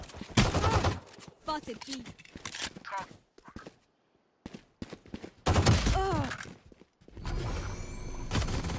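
Rapid gunfire bursts and shots in the tactical shooter game Valorant, loud and close, repeating in clusters with brief gaps, mixed with game effects and a player talking over the action.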